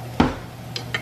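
A child handles a frying pan and spatula in a home kitchen, giving one sharp metallic clank followed by two lighter scrapes and taps against the pan, close and alone without talk.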